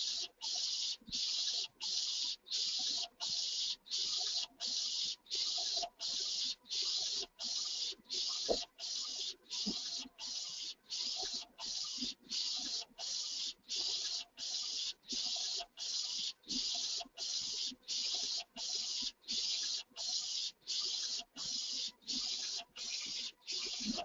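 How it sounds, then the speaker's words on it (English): An inkjet printer prints onto polyester fabric at high-quality graphics resolution, its head passing back and forth in a steady, rapid rhythm of about thirty evenly spaced swishes, close and moderately loud, with a constant mechanical hum underneath. "I'm printing this at about a 1440 by 720"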